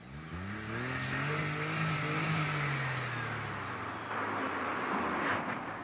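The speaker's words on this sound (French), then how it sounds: "je peux écouter le moteur" A car engine revs smoothly, its pitch climbing and then easing off, steady and fairly close with no talking.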